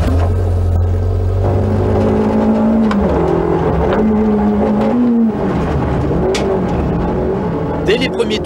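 Turbocharged Fiat Cinquecento rally car engine revving hard on a rally stage in the Cévennes, a loud sustained roar rising and falling through gear changes, with a voice speaking over it.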